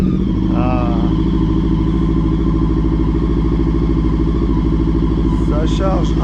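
A Brixton 500 Crossfire motorcycle engine is cranked and catches, then runs at a steady, loud, rumbling idle close by, with a brief voice near the end.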